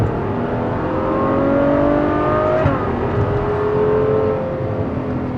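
A V12 sports car engine pulls hard, its smooth rising howl climbing and shifting pitch across the gears, loud and close throughout with no talking.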